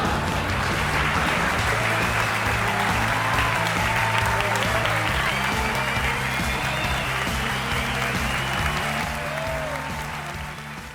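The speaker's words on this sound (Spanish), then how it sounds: "Fuerte aplauso el que recibe cada tarde, cada noche, cuando representan el monólogo Enrique Piñeiro y toda la compañía" Theatre audience applause for a monologue performance: sustained, even clapping from a large crowd that fills the whole stretch, with a voice speaking over it and the applause fading slightly near the end.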